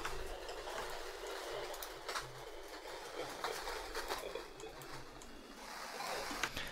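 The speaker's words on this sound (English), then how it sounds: "some cave water Foley sounds that I've recorded myself" Cave water Foley processed with a frequency shifter and heavy erosion gives a steady, gritty wash of trickling, dripping texture with scattered bright clicks, alone and fairly loud throughout.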